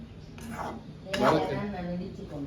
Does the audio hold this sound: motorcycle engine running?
no